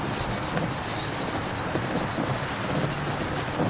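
A Scotch-Brite pad scrubs over the metal of an antique Alcosa forge in a continuous, close, rhythmic scratchy rubbing with quick repeated strokes and no voices.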